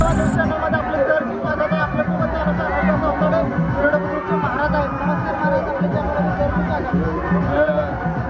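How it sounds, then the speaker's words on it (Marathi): A dense crowd of villagers murmurs and chatters in steady, continuous babble at a village fair by a Hanuman temple, with rides like large swings and jumping attractions, loud and close throughout. "मोठ्या संख्येने गावकऱ्यांनी गर्दी केलेली आहे"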